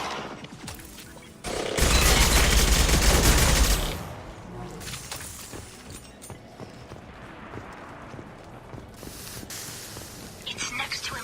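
Gunfire in a Mass Effect 2 firefight, with a loud dense burst lasting about two seconds, then scattered fainter shots and clatter under the game's ambient noise.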